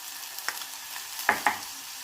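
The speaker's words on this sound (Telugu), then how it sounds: "టమాటో వీటన్నిటిని ఫ్రై చేసుకోవాలి" Vegetables such as cabbage, cauliflower, green chilli, sweet corn, carrot and tomato fry in a pan with a soft sizzle, broken by a few light stirring clacks, close and fairly quiet.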